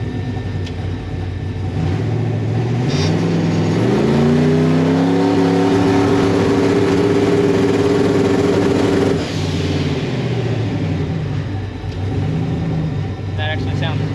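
Turbocharged 5.3-litre V8 revving hard in a driveway during a trans brake bump test, a loud, near, steady engine drone that climbs in pitch, holds high for several seconds, then drops back and rises briefly again.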